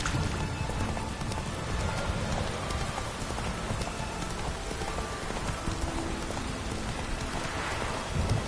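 Roach, a horse in The Witcher 3, trots along with steady muffled hoofbeats under a constant wash of rain-like ambient noise, fairly faint, with no voices.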